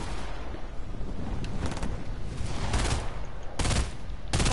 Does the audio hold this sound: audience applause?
no